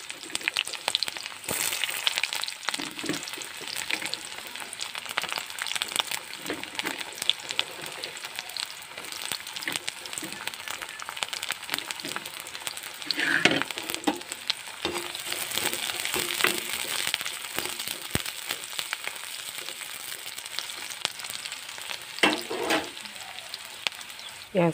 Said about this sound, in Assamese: তেল গৰম হৈয়ে আছে। এতিয়া ইয়াতে দি দিম পিঁয়াজখিনি।